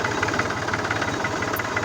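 A Mahindra 275 tractor engine runs steadily at idle, its even, throbbing diesel knock continuous and close throughout, with no voices over it.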